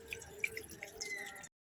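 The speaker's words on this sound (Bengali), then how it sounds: "দিদা জলটা দিই, গঙ্গা জলটা এবার চান পুরোটা দিয়ে দিই।" Ganges water is poured over a Gopal idol during a home puja bath, a brief close run of drips and trickles that stops abruptly.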